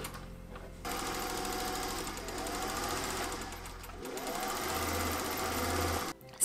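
A sewing machine gathers a ruffle for an Edwardian summer dress, running in a fast, steady mechanical chatter for several seconds with a brief change in pace midway, close and clear, then stopping abruptly.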